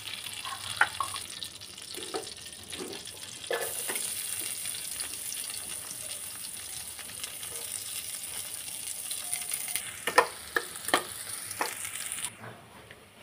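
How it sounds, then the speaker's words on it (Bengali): Onions fry in mustard oil until crisp with a soft, steady sizzle and occasional spatula scrapes and taps, which grow busier and louder toward the end. "আরেকটু তেল দিব, দিয়ে পেঁয়াজটা বেরেস্তা করে নিব"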